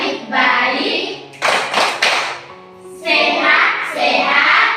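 Children in a classroom perform the tepuk apa kabar clapping game, with bursts of rhythmic hand claps between stretches of chanted voices, loud and close, in a lively group session.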